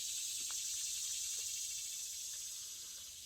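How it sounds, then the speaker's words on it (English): Loud, steady cicada drone in a summer outdoor spot, a continuous high buzzing wall of insect noise with no break and a few faint, brief sounds underneath, easing slightly toward the end. "Boy, those cicadas are loud, aren't they?"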